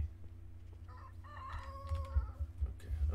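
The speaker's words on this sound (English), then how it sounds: "Is that chicken gonna be upset?" A farmyard chicken in the medieval survival game Medieval Dynasty gives a drawn-out crowing call with some clucks, fairly faint over a low steady hum.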